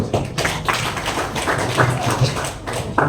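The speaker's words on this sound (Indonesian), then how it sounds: "Tepuk tangan dulu" A small audience at a crypto token presentation claps in a loose, uneven patter, fairly close and moderate in level, with a few sharper individual claps at the start and end.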